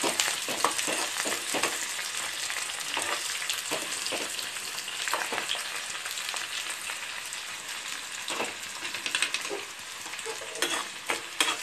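Chopped sambar onions and curry leaves hit hot oil in a pan with dried red chilli, giving a steady close sizzle and crackle broken by scraping stirs throughout.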